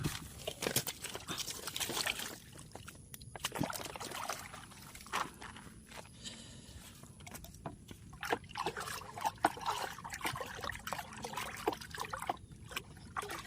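Liquid fungicide and insecticide mixture for chili plants is stirred in a container, with soft irregular sloshing and trickling throughout, close and fairly quiet.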